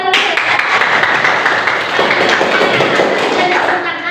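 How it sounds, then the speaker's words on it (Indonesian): Classroom students clapping their hands together in a lesson, a busy continuous patter of claps near and loud, with voices mixed in underneath. "Tepuk tangan terus."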